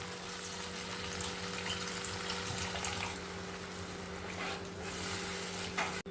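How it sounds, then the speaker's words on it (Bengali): Water is poured into a spiced doi katla fish curry gravy, making a steady, continuous pouring rush over a low background hum that lasts several seconds and then stops abruptly. "এবার আমি পরিমাণ মতন জল দিয়ে দেব"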